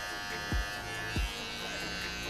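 An electric hair trimmer buzzes steadily while cutting hair for a women's faux hawk, with two brief louder bumps as the blade meets the hair.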